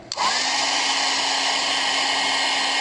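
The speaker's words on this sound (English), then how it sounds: "Okay, I've got my heat gun, and it's going to be a little noisy." An electric heat gun blows steadily to melt embossing powder on a papercraft card, a loud, continuous whooshing roar with a faint whine that starts abruptly and holds steady throughout, with no talking.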